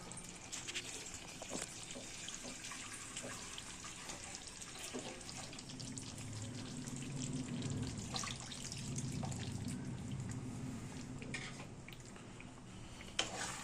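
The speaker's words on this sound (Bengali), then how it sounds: "এবার আমরা এর মধ্যে খানিকটা জল দিয়ে দেবো।" Water is poured into a pot of Delhi Mughal-style chicken korma, a soft trickling and splashing that swells midway, fairly faint, with no voices.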